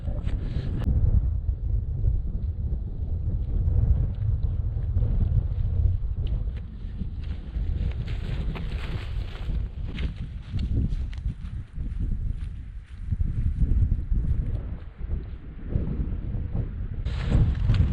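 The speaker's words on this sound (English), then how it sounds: "A wee bit chilly now, the wind's picking up." Strong, steady wind buffets the microphone on an exposed hill in the Luss Hills, a continuous low rumbling gust that swells and eases, with faint footsteps beneath it.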